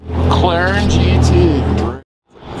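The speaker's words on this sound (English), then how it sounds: "McLaren GT." A McLaren GT drives past on a city street, its engine note rising and sweeping loudly close by before cutting off abruptly, with voices mixed in.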